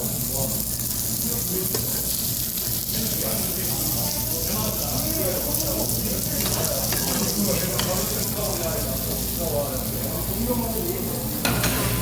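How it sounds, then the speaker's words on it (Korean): Steady, dense sizzling of pork belly frying on a hot grill in a Korean barbecue restaurant, loud and close, with faint voices murmuring in the background throughout. "지글지글지글지글 ASMR이에요."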